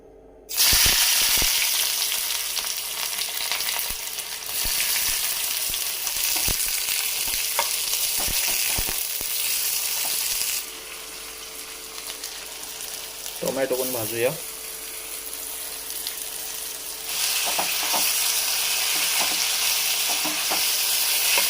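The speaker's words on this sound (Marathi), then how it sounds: "फक्त कांदा आणि टॉमॅटो भाजून घेऊया फक्त तेलामध्ये परतून थोडंसं" Chopped onion and tomato fry in hot oil, giving a loud, continuous sizzle broken by clicks and scrapes of stirring, with the hiss briefly dropping and swelling again as the pan is worked.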